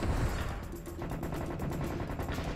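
Weapons fire in the VR shooter Serious Sam VR, a steady, fairly quiet stream of rapid shots with a mechanical chatter running throughout.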